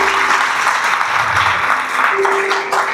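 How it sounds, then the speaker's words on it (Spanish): A church congregation claps together in steady, dense applause that holds for a few seconds, close and lively throughout. "Dele un aplauso a Jesús por ello."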